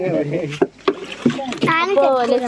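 Voices talk over a few sharp splashes of a paddle dipping into water as a small boat is rowed, the strokes brief and close by.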